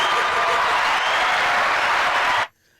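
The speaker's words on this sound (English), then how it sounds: "Let's give you another applause for that." A podcast audience gives a dense burst of applause, loud and sustained, then it cuts off abruptly into near silence.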